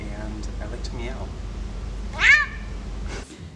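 A man imitates a cat's meow with a short, rising and falling vocal mew near the middle of the clip, set against quiet room noise and a few faint vocal sounds.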